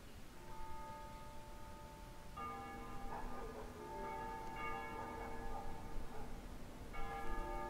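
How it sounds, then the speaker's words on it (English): Church bells toll at dusk in a capital city in the game Ace Combat Zero, ringing in overlapping resonant strikes with long hum and decay. They sound faint and somewhat distant, with a soft ambient background and no speech. "They ring the bells here at dusk to honor the liberation of the capital."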